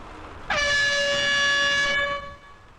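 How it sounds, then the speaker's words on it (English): A single loud, steady blast of an air horn lasting about a second and a half, then cutting off into quiet. "Air horns."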